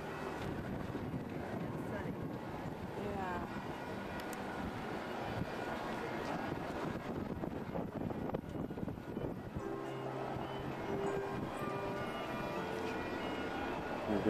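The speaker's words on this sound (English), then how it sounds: "we're up on the lookout on a windy day." Strong wind at a harbor lookout buffets the microphone in a constant roar, with a faint voice briefly audible beneath the gusts.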